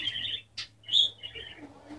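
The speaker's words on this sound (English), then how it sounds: "next will be my bird, Loudy." A pet bird chirps in short, bright bursts close by, with a few separate calls in about two seconds.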